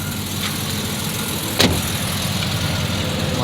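A Jeep ZJ engine idles steadily in the open with a low, even rumble, broken once by a single sharp click partway through.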